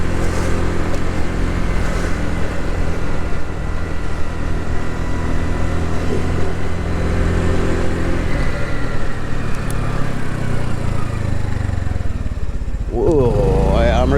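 A 2022 Honda NAVI runs after a kickstart in freezing weather, its small carbureted engine idling loud and close with an uneven, struggling rumble, then revving sharply near the end.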